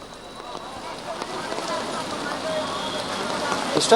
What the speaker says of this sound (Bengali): বৃষ্টি কিন্তু এখন কিছুক্ষণ আগে থেমে গিয়েছিল, এখন আবার অনেকটাই বেড়েছে।